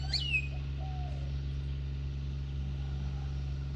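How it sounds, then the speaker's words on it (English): Birds on a golf course let out a couple of brief, faint high chirps near the start, set against a steady low mechanical drone with no voices. "Maybe you notice birds chirping in the trees."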